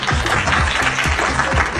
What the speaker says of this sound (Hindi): ओके गाइस, जेदा के लिए तालियां हो जाएं।